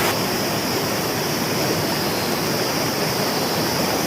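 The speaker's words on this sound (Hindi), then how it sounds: "व्यूज़ काफ़ी अल्टीमेट व्यूज़ है और पानी का प्रेशर बहुत तेज़ है।" Lake Mist Waterfall pours with heavy water pressure, producing a loud, steady, unbroken roar of rushing water that fills the whole stretch without pause.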